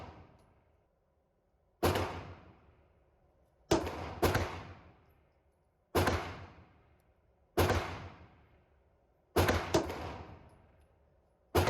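A Wilson Combat EDC X9 pistol fires Hornady Zombie Max 115 grain rounds at a shooting range. Several loud, sharp shots come at irregular spacing, two of them in quick pairs, and each one rings off in a long decaying tail.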